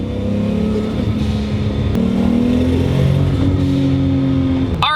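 A turbocharged 520 HP 1JZ Mk3 Toyota Supra accelerates hard with a loud, steady engine drone whose pitch rises through the revs and drops at a shift, recorded close with no talk.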